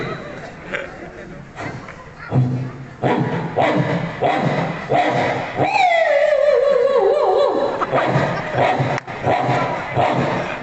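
A voice imitates a scuffle of dogs, rapid barks and yips layered over crowd-like noise, ending in a long whining howl before more barking.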